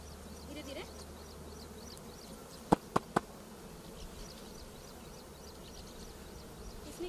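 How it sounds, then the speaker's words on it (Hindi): Honeybees buzz steadily around an open beehive frame as a hive is handled, a continuous close hum with three sharp knocks of the wooden frame midway. "देखिए एक मधुमक्खी ने मुझे फिर काट लिया है"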